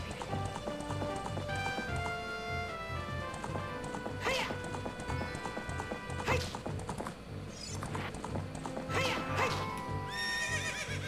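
A horse in the video game Ocarina of Time whinnies repeatedly over busy clip-clop hoofbeats and game music, the neighs rising sharply several times across the span, all fairly quiet.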